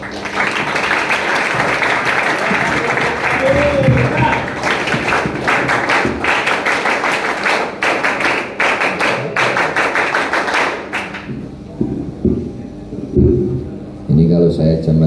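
A crowd of Pramuka scouts clapping in rhythmic group patterns at an indoor ceremony, loud dense bursts of claps and taps for about eleven seconds, then quieter scattered sounds with some talk.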